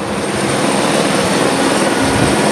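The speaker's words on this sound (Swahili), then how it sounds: "helikopta ile unayoiona kule juu zaidi ni helikopta ambayo inafanya security perimeter" A helicopter flies high overhead, holding a security perimeter during a hostage rescue operation. It gives a loud, steady, unbroken engine and rotor roar throughout, with no voices.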